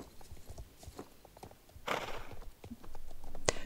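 Horse hooves clip-clop at a steady walking pace as a rider heads to a starting line in Star Stable, a brief neigh breaking in midway and a bright chime near the end.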